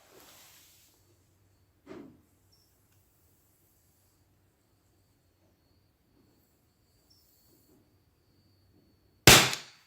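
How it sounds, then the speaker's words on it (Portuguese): A single sharp, loud report from an Armex .50 less-lethal home-defense pistol fired at an empty shooting club, arriving near the end after a long quiet stretch with a faint earlier pop. "Vamos para mais um disparo"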